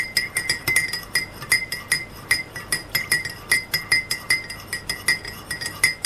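A spoon stirs sugar into milk tea made with a Lipton tea bag, clinking steadily and rhythmically against the sides of the cup, close and clear, with no talking.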